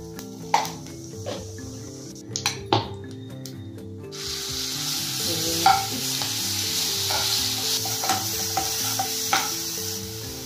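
Cumin seeds crackle in a spoonful of hot oil for a street-style vada pav potato filling, a steady close sizzle with scattered spoon scrapes and taps against the pan.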